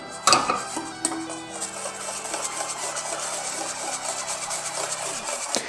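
Close scraping and rubbing of a utensil stirring eggs and milk in a bowl, continuous and fairly quiet, over soft background music.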